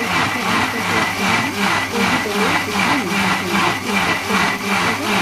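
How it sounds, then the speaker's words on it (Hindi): Electric mixer grinder jar whirring steadily as it purees soft ripe mango pieces into a fine paste for aam papad, a continuous loud grinding drone with slight rhythmic pulsing throughout. "अब इसके बाद हम इसको मिक्सी जार में ग्राइंड कर लेते"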